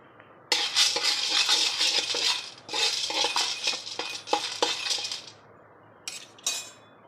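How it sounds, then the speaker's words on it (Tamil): Roasted gram dry-roasted in a pan on the stove, heard as loud, close bursts of rattling, clinking grains as they are stirred, separated by short quiet pauses. "அடுப்பில் சட்டி வச்சு பொட்டுக்கடலை போட்டிருக்கேன் ஒவ்வொன்றா தனித்தனியாக வறுக்கணும்"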